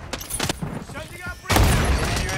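Shooter-game gunfire crackles in short bursts, then a louder, dense blast of shots and impacts takes over for the final second, mixed with a few quick voices.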